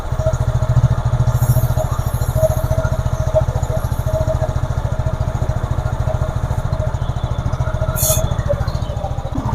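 A motorcycle engine idles steadily and close by while its chain is being cleaned, a continuous low rhythmic putter with faint clatter and a brief higher whine near the end.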